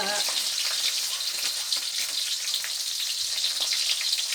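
Hot oil sputters and crackles steadily in a pan frying eggplant, a dense, loud hiss with scattered pops throughout.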